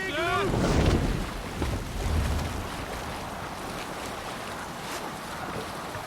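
Viking longship under sail with the sail let out in Assassin's Creed Valhalla, a steady rush of wind and water against the hull, loudest in the first seconds with a brief voice-like call at the very start.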